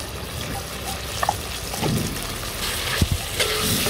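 Turmeric, salt, spices and tomato sizzle and fry in a pan while cooking a local chicken curry, a steady close crackle with a few clinks and stirring scrapes, no talk.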